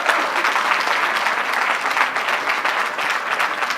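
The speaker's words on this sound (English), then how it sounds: "Let's give her a round of applause as she comes up." An audience claps steadily and warmly, a sustained wash of applause throughout with no voices standing out.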